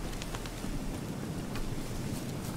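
Rain falls in The Witcher 3: Wild Hunt – Hearts of Stone as a quiet, steady wash of patter, with a few scattered, slightly louder drops and a low rumble underneath.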